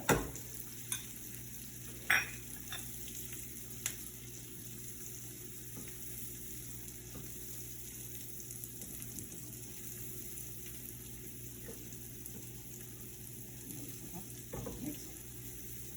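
Red chili powder being stirred into a pot of dal on the stove, a soft continuous sizzle and scraping stir with a few faint clinks, quiet and steady with no talk.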